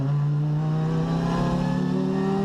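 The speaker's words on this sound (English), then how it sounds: "she's ridden in an old Audi S1 rally car" An old Audi S1 rally car engine revs loud and close, its steady droning note climbing slightly in pitch through the whole stretch, alone with no talking.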